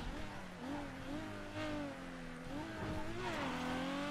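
Fast car engine from GTA V droning at high revs with wavering pitch and slight rises, steady and fairly faint, with faint speech in the background.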